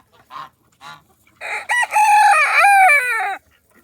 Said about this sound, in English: This is my bantam coop. These are all my very tiny birds.